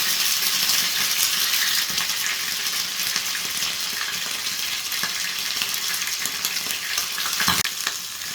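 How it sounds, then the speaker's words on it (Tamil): Fish frying in hot oil in a pan, a steady, loud, continuous sizzle and crackle throughout with faint clinks of a utensil, no talking. "இப்போ எண்ணெய் சூடாகிடுச்சு. நம்ம மீன் உள்ளே வச்சு பொரிச்சிடலாம்"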